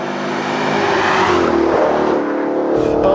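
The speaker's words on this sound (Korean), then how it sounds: "마세라티 모델을 탈 때마다 칭찬을 하게 되는 부분이 있다면 바로 사운드인데요" A 2017 Maserati GranTurismo Sport engine revs loud and close, its note climbing and dropping in one long sustained pull before a sharp change near the end.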